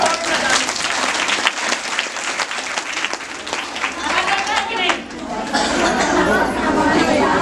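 An outdoor audience at a rural awareness gathering claps steadily and loudly, with chatter mixed in, the applause continuing dense and unbroken before easing briefly and swelling again.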